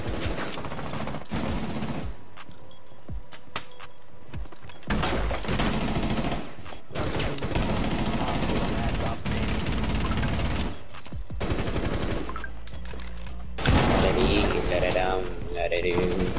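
Sustained automatic gunfire in Rainbow Six Siege, with heavy bursts broken by a few short gaps across the stretch, loud and close, while players shout over the shooting.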